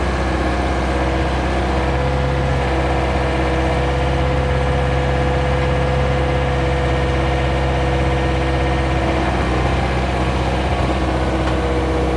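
A 17,000-pound heavy machine's engine idles with a loud, steady low rumble and constant mechanical drone, unchanging throughout and heard close with no speech.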